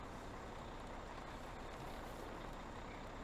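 A long truck manoeuvring in Farming Simulator 17, a steady droning engine hum held evenly throughout at low volume, with no talking.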